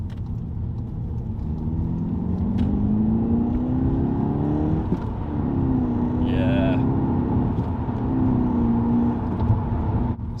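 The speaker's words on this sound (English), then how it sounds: "Let's go for a drive. Let's see what it's like on the road." 2016 Seat Ibiza Cupra hot hatch driving on the road, a steady engine drone with rising and falling tones as it runs through the gears, and someone talking over it.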